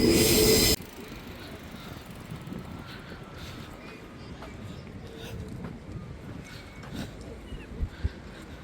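Train rolling past near Meiringen, Switzerland, a steady low rumble with faint wheel clicks and squeals, opening with a loud brief burst and staying moderate throughout, with no talk.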